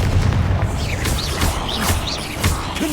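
Repeated fiery spell blasts from the Confringo curse in Hogwarts Legacy, a series of booming bursts and crackling pops following one another in quick succession, loud and close with no talking over them.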